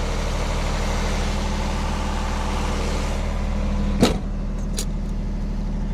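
Generator engine running steadily after a restart, a loud, even mechanical drone with a throbbing low rhythm, interrupted near the end by a brief sharp click and a faint clatter.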